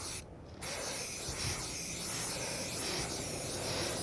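Krylon spray paint hissing steadily onto cardboard bank boxes, close and continuous after a brief pause near the start, with no talk.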